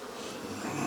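A steady, diffuse insect buzz of bees hums continuously, fairly soft and close, with no voices.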